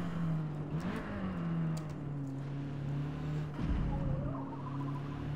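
Alfa Romeo 4C sports car on a Nürburgring track day, its engine droning steadily and close, with pitch shifts as it revs and changes gear, running continuously throughout.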